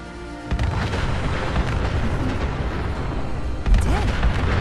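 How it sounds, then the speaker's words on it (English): Gunfire and blasts from the Fallout 4 video game as Gunners fire on mannequin decoys: a loud, dense, continuous barrage of booms and shots, with a heavier burst of impacts near the end. "Look, they're firing!"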